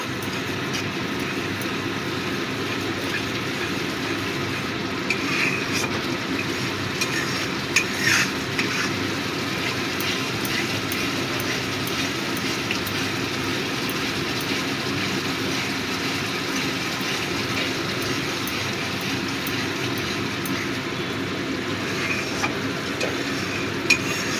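Parshe fish sautéing and being stirred in hot oil in a pan, a steady close sizzle with soft scraping strokes running throughout, no voices.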